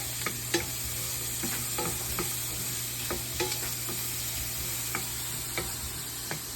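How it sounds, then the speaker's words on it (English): Onions fry on high heat in a pan while being stirred, a steady close sizzle broken by frequent light scraping clicks of the utensil, with no voices. "You cook onions on the high without burning them, but you gotta just keep them moving."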